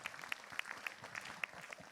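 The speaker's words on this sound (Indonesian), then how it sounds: "Dimas tepuk tangan dong." Faint, scattered applause from a small group, light irregular claps heard at a distance for a couple of seconds.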